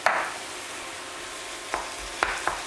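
Beef seasoned with ras el hanout is stirred in a frying pan, a soft continuous sizzle broken by a few scraping utensil knocks, heard close with no talking.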